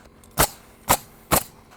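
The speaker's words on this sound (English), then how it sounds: "the sound of a nail gun" Three sharp pneumatic bangs of a nail gun firing, evenly spaced about half a second apart, close and loud against a quiet background.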